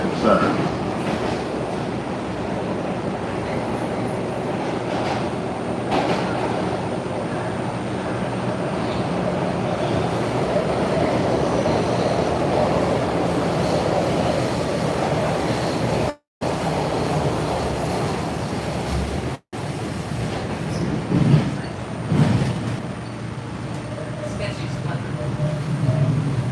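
Subway train at Market Station in Philadelphia on the line toward Camden, a continuous rumbling roar of the rail car under a voice talking, with two brief dropouts near the end.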